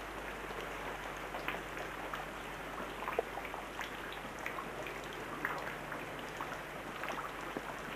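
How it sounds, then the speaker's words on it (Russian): Steady light rain falling outdoors at Tatar Bay on Kazantip, Crimea, a soft continuous hiss with scattered drop taps, fairly quiet and even throughout. "Я к тому, что дождь идет."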